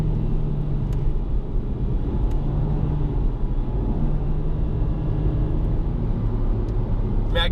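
A Nissan Juke NISMO with front-wheel drive is driven on the road. Its engine and tyres give a steady, loud low rumble that fills the cabin throughout, with no talk heard.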